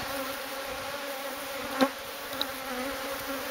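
Honeybees drone steadily around a hive being removed from a drum, a continuous close hum with a couple of brief knocks partway through and no talking.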